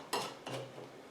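Metal lid twisted onto a glass mason jar holding cardstock in place for a tissue holder: two sharp clinking contacts a third of a second apart, each trailing off in a thin metallic ring, close and fairly quiet.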